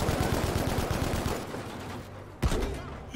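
Sustained rapid automatic gunfire in the shooter game Battlefield V, loud and dense for about two seconds, then tapering off before a single sharp shot rings out.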